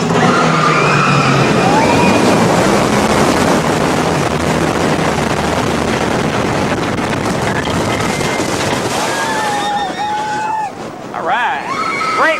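Riding the Top Thrill Dragster roller coaster at Cedar Point brings a loud, sustained roar of wind and rushing track noise that eases near the end, when riders' voices and whoops rise briefly.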